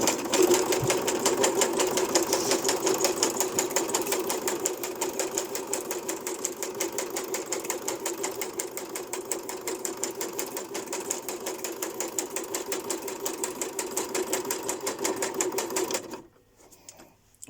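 A sewing machine stitches through cardboard in a fast, even mechanical rattle, running loud and close without a break for about sixteen seconds before stopping abruptly.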